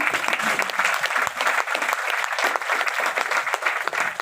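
A business seminar audience in Bhopal claps steadily, a full, dense burst of applause filling the room with no pause over a few seconds.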